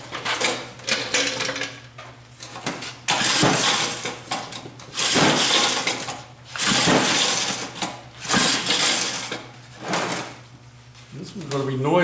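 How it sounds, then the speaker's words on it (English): A small engine with no muffler and rotted-off muffler studs, running in loud, harsh, rattling bursts that surge and drop repeatedly, close to the microphone. "This one's going to be noisy because it don't have a muffler on it."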